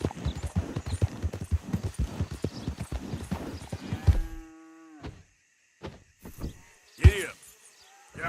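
Rapid, even horse hooves clip-clop for about four seconds in Red Dead Redemption 2, then stop, followed by a few sparse thuds and a short burst of sound near the end.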